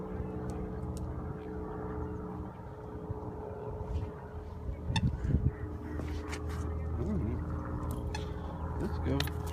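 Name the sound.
airplanes taking off and landing near the airport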